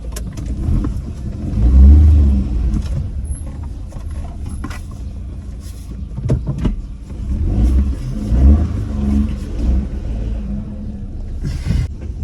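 A car turns and its engine revs, a low rumbling drone that swells loudly twice with acceleration and eases between, with mechanical rattles and no talking.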